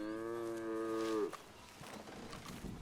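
A cow on a farm gives one long, clear moo that fades out after about a second, followed by quieter farmyard background noise.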